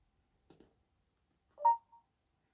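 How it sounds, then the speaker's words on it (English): A phone gives a couple of faint soft taps, then a brief clear electronic beep followed by a shorter second beep, close by in a quiet room. "My phone."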